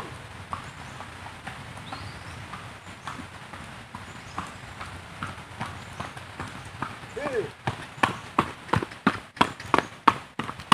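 A shod horse hauling fertilizer on a rural farm path, its hooves clip-clopping in a steady rhythm that grows louder and sharper as it nears, with a person talking over it.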